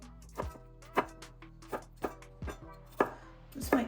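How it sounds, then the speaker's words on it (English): A knife chops peeled red skin potatoes on a cutting board for corn chowder. Crisp, close thunks land in a loose, steady rhythm, roughly two per second, with no talk. "These are red skin potatoes that I peeled and chopped up, as you can see."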